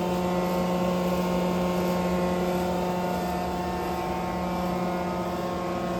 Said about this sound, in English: Here's your spindle start for the grinding wheel.